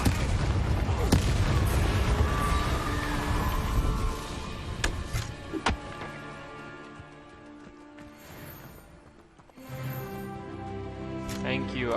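Incendio fire spell cast in Hogwarts Legacy: a booming fiery burst up front that fades into quieter game effects, with a voice talking over it.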